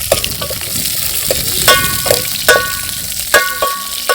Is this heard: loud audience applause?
no